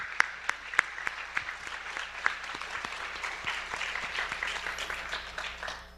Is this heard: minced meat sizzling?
no